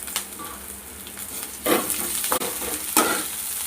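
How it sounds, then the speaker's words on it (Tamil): Onions with five or six curry leaves fry in a pan for a South Indian egg curry, a soft steady sizzle under a few scraping stirs of a utensil against the pan. "நல்லா கிளறி விட்டுக்குங்க."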